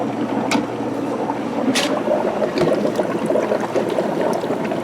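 An aquarium-style air pump drives air through a valve into a hydroponic water-culture grow tube, giving a steady, close bubbling and gurgling wash of water with a few brief sharper clicks, no talk.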